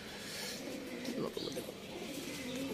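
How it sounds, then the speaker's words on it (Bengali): Pigeons cooing in a home loft, soft low burbling coos in a few short bursts over steady background noise, fairly faint and close. "দেখুন কত পায়রা"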